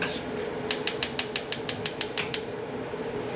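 A stove being switched on: a rapid run of about a dozen evenly spaced ignition clicks, close and crisp, over a low background hum before it settles.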